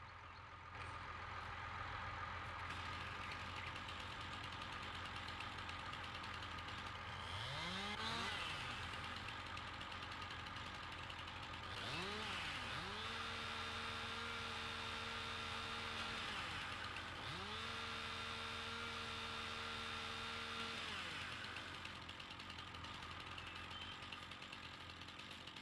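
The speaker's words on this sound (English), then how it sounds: "gotta have the engine running to have the winch running" A vehicle engine idles steadily to power a winch, a constant drone throughout with rising and falling whines as the winch motor starts and runs in two long pulls.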